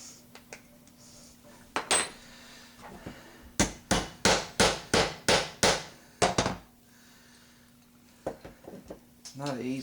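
A hammer strikes a punch to set a pin in a Stevens 107B/94H shotgun receiver on a bench, about eight sharp, evenly spaced metallic blows in a quick burst, close and loud, with scattered lighter taps and talk around them.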